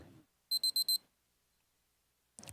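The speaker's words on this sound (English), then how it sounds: "You might even be able to hear the alarm." A tape timer alarm sounds four quick, shrill electronic beeps in a tight burst, close and clear, followed by quiet.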